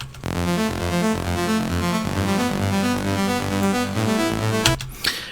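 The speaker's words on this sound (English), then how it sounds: "This is just a patch I tweaked out myself." A thick, buzzy Serum synthesizer patch in a melodic trance track plays a rhythmic pulsing pattern with solid low end, running steadily before cutting off near the end.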